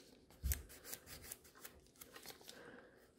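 Natural nails being filed with a 180 grit file, quiet close rasping strokes repeating in a quick uneven rhythm after one soft knock, no talking.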